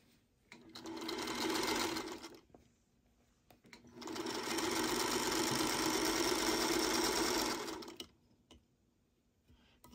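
Quilt block pieces are sewn together on a sewing machine in two close, loud bursts of steady rapid stitching, the first brief and the second longer, separated and followed by quiet pauses with soft handling noises.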